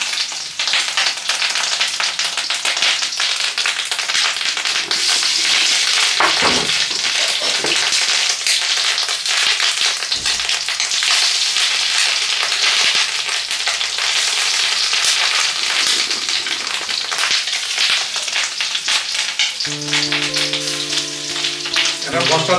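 Fish roe fritters frying in hot oil, a loud continuous crackling sizzle with dense popping, close up and steady, with a brief tonal sound near the end.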